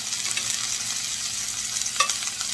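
Whole chicken legs gently frying in a pan, a steady close sizzle and crackle running throughout with a brief louder pop near the end.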